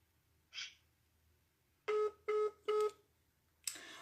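A telephone keypad sends three evenly spaced dialing tones, each a short steady beep, with fainter noises before and after in an otherwise quiet room.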